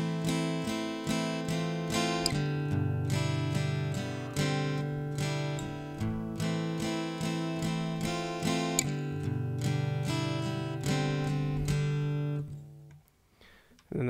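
The intro of a song played on an acoustic guitar by a left-handed player, with steady rhythmic strummed chords sounding clear and close for most of the passage before cutting off near the end.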